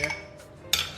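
A utensil clinks and scrapes twice against a crockpot while beef and broccoli are stirred, brief close knocks with a quiet pause between and no talk.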